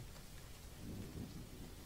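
Heavy rain with rumbling thunder, a dense continuous wash of falling rain and low rolling rumble, fairly faint and distant, with no voices.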